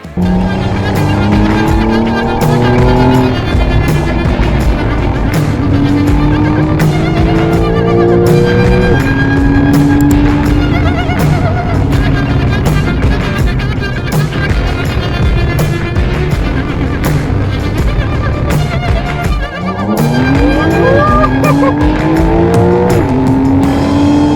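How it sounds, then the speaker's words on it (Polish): A Porsche driving hard, its engine revving and accelerating through repeated rising gear pulls, with brief dips at the shifts. Loud, close and steady throughout, with no talk. "Przejechałem tym autem pierwsze 100 km"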